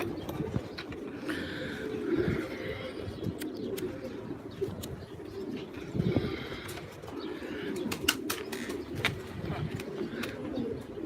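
A flock of pigeons coos softly and steadily, with occasional wing flutters and sharp chirps. The sounds are fairly close and continue throughout without any talking.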